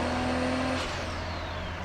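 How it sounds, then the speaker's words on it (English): Modified 1995 Nissan Skyline R33 GT-R with an engine droning inside the cabin, then a turbo blow-off valve releases in a quick airy whoosh as the engine note drops. "The blow-off valve sounds so good."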